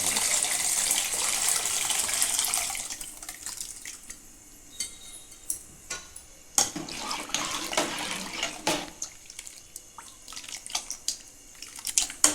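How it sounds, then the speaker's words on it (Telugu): Water pours and splashes steadily into a cooking pot for sambar at first, then turns into intermittent trickles and drips with soft clinks. "ఇంకిన్ని నీళ్ళు అయితే పోసుకుందాం"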